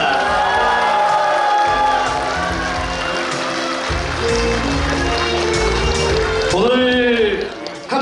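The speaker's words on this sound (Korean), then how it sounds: "순천 시민 여러분, 박수와 함성 부탁드리겠습니다." Audience at a civic event in Suncheon clapping and cheering in a large hall, a loud sustained roar of applause and shouts throughout, swelling toward the end.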